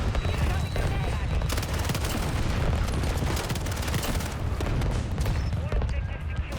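In Call of Duty: Modern Warfare, rapid automatic gunfire crackles close and loud over a low rumble, with heavy booms suggesting a grenade blast among the shots.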